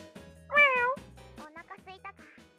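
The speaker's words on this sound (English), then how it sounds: "Rin was talking to a cat." A cat meows once, clear and drawn out, in the visual novel game Little Busters!, with softer mewing afterward. A voice speaks briefly around the meows.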